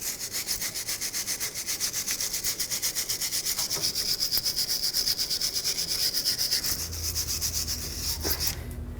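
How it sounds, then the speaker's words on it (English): Rapid back-and-forth scraping of a stiff wire brush on the metal surface of a 2009-2011 Ford F-150's rear brake area, a rhythmic rasping that continues steadily close by, then stops near the end. "I'm going to take a wire brush and clean up this entire surface."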